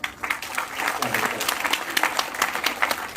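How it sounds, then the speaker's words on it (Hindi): An auditorium audience at a university program applauds, dense continuous clapping from many hands at moderate loudness. "कृपया तालियों से आप"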